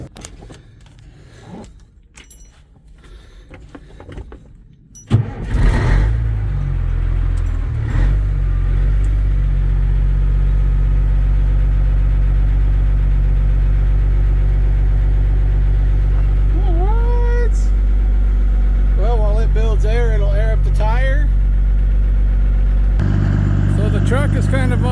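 A Kenworth truck's diesel engine cranks, catches and then settles into a steady, loud idle, preceded by a few quiet clicks and rattles. A voice speaks briefly over the rumble.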